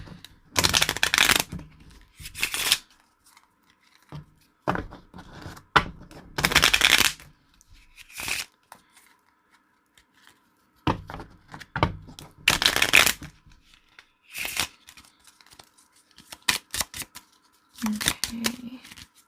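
Tarot cards are shuffled in quick rustling bursts, several separate riffles and flutters spaced by brief quiet gaps, close and clear with no voice over them.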